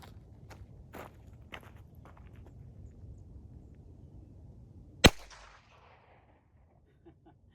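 One sharp, loud gunshot from a firearm loaded with Winchester White Box ammunition rated at 1,280 feet per second, fired outdoors after a stretch of light footsteps and rustling, with a brief ring-out afterward.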